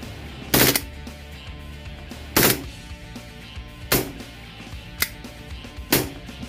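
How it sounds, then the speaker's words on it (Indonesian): A Makarov pistol fires until its magazine runs empty: five loud, sharp shots at uneven intervals with short decaying echoes, and no voices. "Oke, langsung kita tembakan aja."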